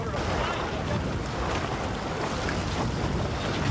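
Gusty wind and choppy harbour waves wash steadily around small boats and a dinghy during a yacht race, a dense, loud, continuous roar with no clear breaks.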